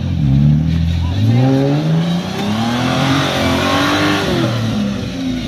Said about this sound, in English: Four wheels spinning.